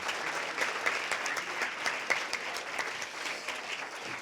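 An audience applauds two debaters at a high school debate championship, a steady wash of many hands clapping at moderate distance for several seconds with no talking over it.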